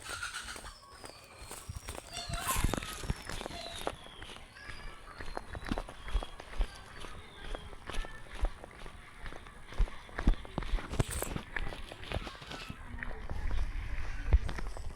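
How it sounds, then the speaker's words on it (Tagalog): Footsteps crunch along an outdoor pathway in an uneven walking rhythm, close and fairly loud, with a voice talking at times over them. "naglalakad na tayo dito sa patway"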